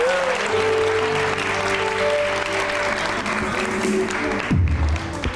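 A television studio audience gives a sustained round of applause, a dense continuous clapping heard alongside background tones and a brief low thump near the end.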